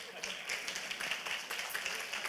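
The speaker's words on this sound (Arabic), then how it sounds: "صفقوا على المغرب" An audience at an Arabic-language evening lecture on parenting claps together, a steady, moderately loud patter of many hands filling the short moment.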